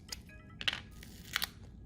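Front glass of a Samsung Galaxy Note 9 splitting off during a screen replacement, giving a few short crunching, crackling bursts, fairly close and quiet, with no talk.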